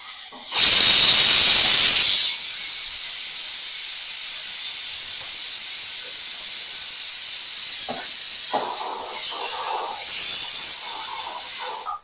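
Curry leaves are dropped into hot oil for mutton kulambu and burst into a loud, close, hissing sizzle that quickly settles into a steady quieter fizz, with a few crackling flare-ups near the end.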